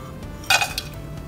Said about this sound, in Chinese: 用回相同的锅，放入我们的椰糖